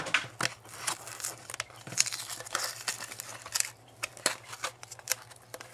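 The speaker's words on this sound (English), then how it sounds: "So we just want to get this tape off" Tape being peeled off a Yoshi Amiibo package, a close, crinkly ripping and rustling of plastic and packaging in short bursts, with no voice over it.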